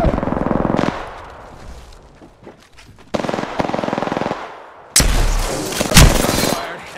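Apex Legends gunfire comes in loud, rapid automatic bursts separated by short lulls, with a few scattered single shots and impacts between volleys.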